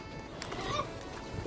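Close, short honking calls from green birds perched on a person's head near Melbourne, a few cries rising over outdoor background noise.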